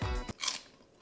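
A crunchy cracker or stick of celery loaded with hummus dip snaps in one sharp, close bite, followed by a brief crackling crunch before it fades to quiet.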